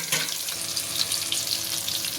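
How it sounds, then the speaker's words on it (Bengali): Steady, crackling sizzle of katla fish frying in hot mustard oil, continuous and close, with no talking. "মাছটা আমরা উল্টে পাল্টে লাল করে ভেজে নিয়েছি"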